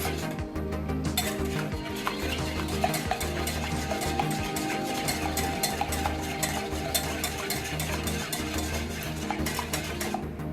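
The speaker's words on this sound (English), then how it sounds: "So while mixing, you have to make it a bit soft." Carrot cake batter being mixed in a cooking pan: continuous rhythmic scraping and clinking strokes of a utensil against the metal, close and steady for the whole stretch, with no voices.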